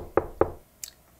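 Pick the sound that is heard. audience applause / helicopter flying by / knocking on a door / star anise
knocking on a door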